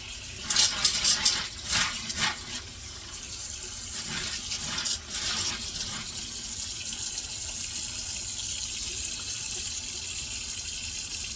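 Dry beans are washed under running tap water, with a steady stream into a sink and a few splashy rattles and clatters early on, close and fairly quiet, no talking.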